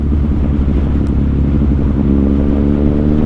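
A Yamaha FZ-09 (MT-09) motorcycle lane splitting between cars in commuter traffic, its engine a loud, close, steady drone with a rumbling low end and no talk.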